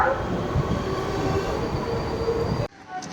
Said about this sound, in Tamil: Train number 66046 Viluppuram Chennai Beach Memo Express is just arriving